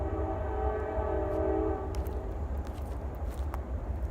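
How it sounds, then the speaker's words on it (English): A train horn sounds in the distance near a wooded battlefield park, a steady sustained tone over outdoor background noise that fades after a couple of seconds. "there is a train in the distance whistling"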